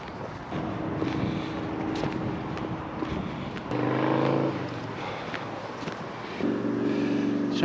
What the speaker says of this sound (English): Showing you about the noise of the traffic,